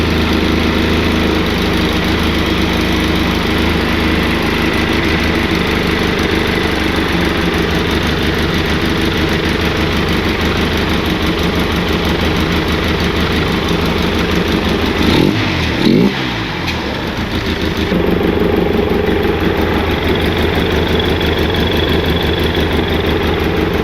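A 2002 Polaris Sportsman 700 ATV engine runs loudly and steadily up close after its carburetor was cleaned, with a short dip and change in tone partway through before it settles again.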